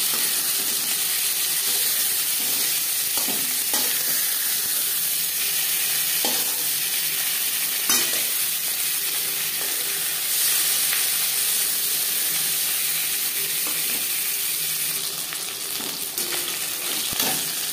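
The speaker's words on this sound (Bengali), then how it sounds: "একটা সাইড ভাজা হয়ে গেলে অপর সাইডটা উল্টে দেবো" Pieces of pangas fish frying in oil in a pan, giving a steady close sizzle with a few soft clicks and scrapes from stirring or turning, and no voices throughout.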